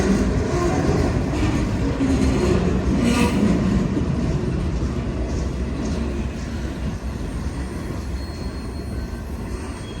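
Freight train hauling heavy-duty multi-axle flat cars rolls past on the rails, a loud, steady broadband rumble that holds for the whole stretch and eases slightly toward the end.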